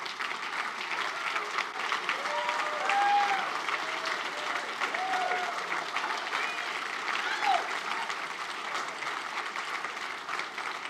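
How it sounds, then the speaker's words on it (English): An audience at a city's State of the City address gives sustained applause for municipal employees, a broad, even wash of clapping with scattered cheers and voices mixed in throughout. "can we just give a round of applause to all our city employees?"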